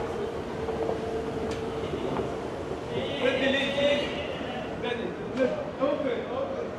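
A metro train rumbles into Vancouver's Main Street–Science World station with a steady low roar and faint squealing brakes, while people talk nearby.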